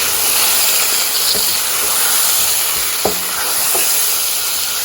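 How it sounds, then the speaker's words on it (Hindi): White chicken karahi sautéing in a wok: a steady, loud broadband sizzle and hiss throughout, with a few brief scraping clinks of a utensil stirring, one sharper knock near the end. "अब इसको भूनेंगे थोड़ी देर तक।"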